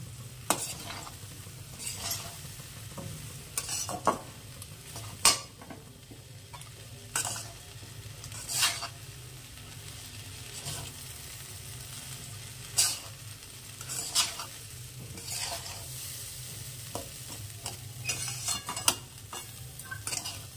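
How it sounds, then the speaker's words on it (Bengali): Dry dal lentils scraped and stirred in a hot pan with a spoon, a steady gritty rustle broken by sharp clinks against the metal, close and alone without talk. "এবার ডালটা শুকনো আমি ভাজবো।"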